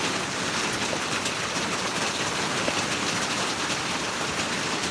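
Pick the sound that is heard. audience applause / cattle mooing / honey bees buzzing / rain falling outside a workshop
rain falling outside a workshop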